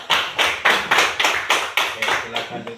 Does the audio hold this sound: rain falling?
no